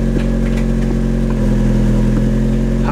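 Mazda Miata with a freshly replaced Supermiata clutch, its engine running steadily at a low idle-like hum, loud and constant throughout with no talking.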